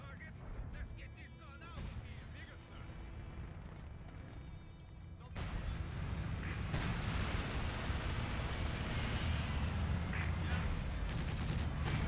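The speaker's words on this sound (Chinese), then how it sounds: "哇，这是机枪啊！" Machine gun fire and battle noise in Company of Heroes 2, a dense rumbling barrage that swells louder partway through and then roars continuously, with a voice talking over it.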